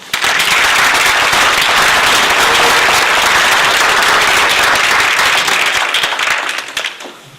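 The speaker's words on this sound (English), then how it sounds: "I'd like for you all to join me in just one more applause" Loud, sustained applause from the audience at a board meeting honoring officers, thick and steady for several seconds before tapering off at the close.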